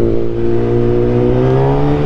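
Kawasaki ZX-10R sportbike engine revving steadily while riding, a loud, close, continuous drone whose pitch climbs slowly over two seconds.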